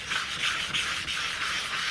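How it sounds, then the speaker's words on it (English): Steady dry scratchy sanding of a lino printing block, close up, with a gentle repeating swirl as the paper moves in circles over the surface. "I've already started sanding this side. I just basically go at it in a circular motion"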